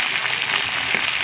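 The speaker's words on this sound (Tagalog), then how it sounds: "Lagyan natin yung ating maraming kamatis. Gisa-gisa lang natin until" Chopped tomatoes sauté in a hot pan, giving a dense, steady sizzle that stays close and loud for a brief moment, with no voices.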